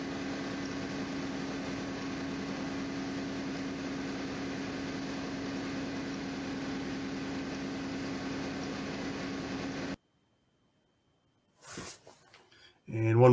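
A crossflow fan running at full rated RPM gives a steady, loud whooshing drone with a constant tonal hum for about ten seconds, then cuts to silence before brief speech follows.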